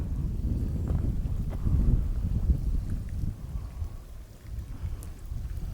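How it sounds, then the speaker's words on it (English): Steady rain falling outdoors along a hiking trail near volcanic hot springs, a continuous low wash with deep rumbling that may be distant thunder, fairly even throughout with no talk. "See how it's raining?"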